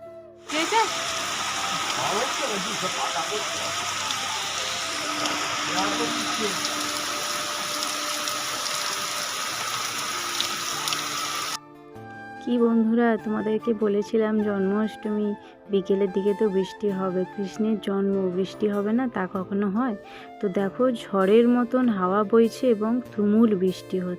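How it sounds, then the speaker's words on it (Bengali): Rain pours during a storm as a dense, steady hiss for roughly the first half, then cuts to quieter rain mixed with voices and other household sounds. "বৃষ্টিটা একটু কমেছে যেহেতু"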